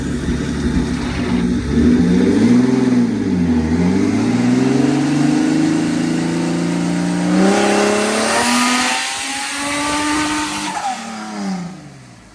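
A turbocharged Honda engine in a sand car runs hard on a dyno, revving loud and close with rising and falling pitch, climbing to a high-pitched scream before easing off.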